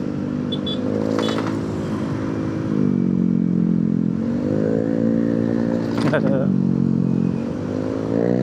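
A motorcycle rides along a Jakarta city road and crosses a rumble strip, the engine droning steadily with bursts of rattling clatter as the tires hit the ridges, close and fairly loud.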